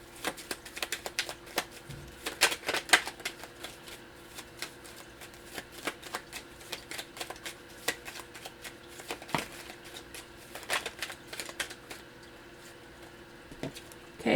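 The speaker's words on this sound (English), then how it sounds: "I'm dropping all the cards on the floor." Tarot cards dropped onto the floor and gathered up make quiet, scattered papery slaps and shuffling rustles, soft and close, with no one speaking.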